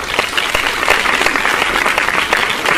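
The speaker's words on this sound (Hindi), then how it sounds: "ताली बजाओ यार," An audience at a comedy stage show claps in a brisk, dense burst, lively and close, with a faint murmur under it.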